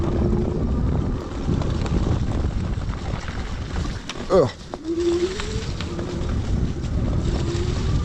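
A Onesport Ones3 electric motorbike rides in full electric mode, its quiet motor whine largely buried under strong rushing wind noise, with a brief bump and a short exclamation from the rider partway through.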